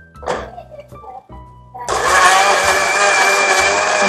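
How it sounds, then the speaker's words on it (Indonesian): After a few short knocks and some brief talk, a kitchen blender roars on, grinding salt and black pepper, and keeps up a loud, continuous whirring. "Kemudian kita blender."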